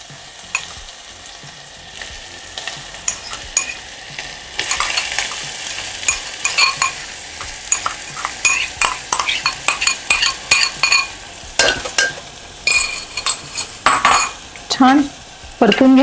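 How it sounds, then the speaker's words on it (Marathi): Finely chopped onion frying in a pot, a quiet sizzle that soon swells as the onion goes in, followed by frequent metallic scraping and clinking of a spoon stirring against the pot. "हा सगळा बारीक चिरलेला कांदा घालते।"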